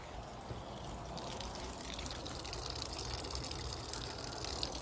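Water drains steadily from a residential water heater through a washing machine hose, a continuous rushing gush with no pauses, moderately loud and alone.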